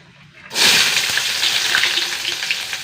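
Small shallots dropped into hot coconut oil with fenugreek seeds burst into a loud, steady sizzle that starts abruptly and keeps frying evenly without pause, close up.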